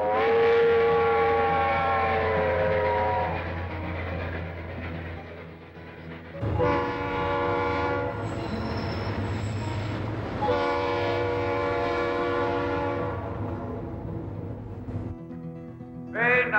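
A toy train rumbles along steadily with horn-like harmonic tones sounding over the running noise, fairly loud and continuous, pausing briefly midway.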